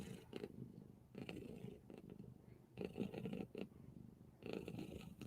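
A cat purrs right beside the microphone, a soft rumbling that keeps going in gently swelling breaths, with no talking.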